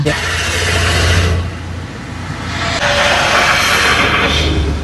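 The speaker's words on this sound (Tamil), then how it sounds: "என்ன இவ்வளவு லாரி போகுது இங்க?" Heavy lorries rumbling past one after another by an open ground in Tiruchirappalli, engine roar swelling and fading as each goes by, loud and close, with people talking nearby.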